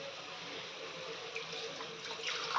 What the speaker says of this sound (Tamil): இப்போ இந்த தேங்காய் பால் கொஞ்சம் ஊற்றுங்க